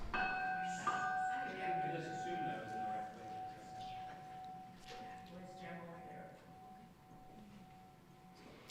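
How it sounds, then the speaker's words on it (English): A bell is struck once to open a church service, its sustained ringing tone lingering and slowly fading while people talk over it. "Lily, will you ring the bell?"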